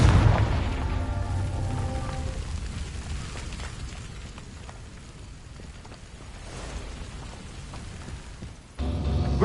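A Confringo spell detonates in Hogwarts Legacy with a heavy, booming blast up front that rolls into a long, low rumble, then a second sharp burst right at the end.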